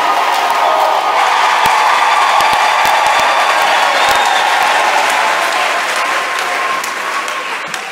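A church congregation applauds and cheers in sustained, dense clapping that fills the room, loud and steady throughout, with scattered voices mixed in and a slight fade toward the end.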